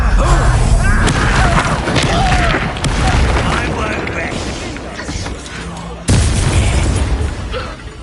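A booming fiery blast from the Incendio spell in Hogwarts Legacy rumbles loud and heavy, fading over several seconds before a second sharp burst hits, with game voices mixed in.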